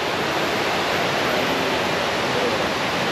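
Water rushes down the Lata Makau waterfall and stream near Kuala Kubu Bharu in Malaysia, a loud, steady, broadband roar that fills the whole moment without letup or talking.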